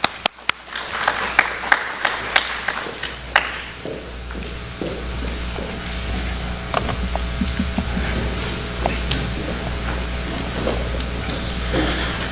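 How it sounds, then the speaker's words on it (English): Scattered applause breaks out at a school-district press conference: a few early claps, then a steady patter of clapping from a modest crowd that carries on throughout. "Let's give him a round of applause."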